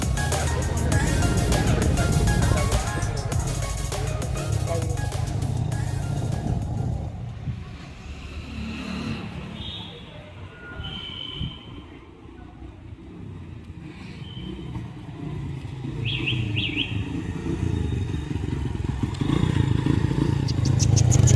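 A 23-year-old TVS Victor motorcycle engine cold-starts after sitting unused for 8 months, with loud rough idling and revving that dips in the middle, then builds again, alongside some clatter.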